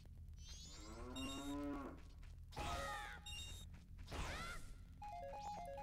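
Several cartoonish cow moos from the video game Zelda: Majora's Mask ring out in sequence, loud and close, over steady game background music with chiming menu tones.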